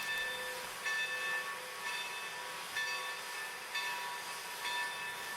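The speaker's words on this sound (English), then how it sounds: "Locomotives are turned using compressed air from the engine to power a small motor beneath the track" A steam locomotive on the Texas State Railroad is turned by a compressed-air motor beneath the track, giving off a steady airy hiss with faint tonal ringing and soft rhythmic pulses about once a second, moderately distant.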